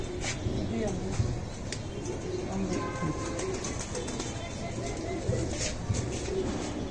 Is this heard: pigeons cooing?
yes